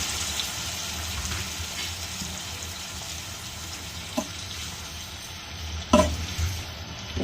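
Papaya pieces frying in a pan with onion, a soft continuous sizzle with a couple of sharper clatters of utensil or food hitting the hot surface near the end.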